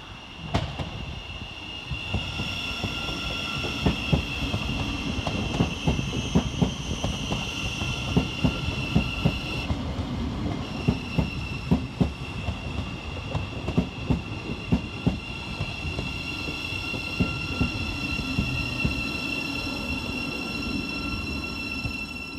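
A Govia Great Northern Class 717 electric train rolls into Bowes Park station, with steady motor hum, rhythmic wheel clicks over rail joints and brief squeals as it slows.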